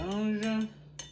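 A utensil stirs a dish seasoned with fish sauce and ground pepper, giving a few bright metallic clinks and a lingering ring against the bowl, close by, with no talking.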